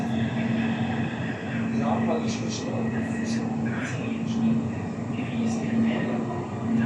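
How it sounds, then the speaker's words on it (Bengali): Riyadh metro train running at a station, a steady low rumble with a constant hum under scattered chatter and an onboard announcement, fairly loud and continuous. "এ যে আর একটা ট্রেন যাচ্ছে"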